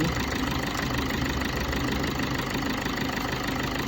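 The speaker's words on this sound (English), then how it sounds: "The engine, the revs or something just changed." A Vitara Brezza's engine idles steadily nearby with a low, continuous rumble and faint knocking; the revs shift only subtly.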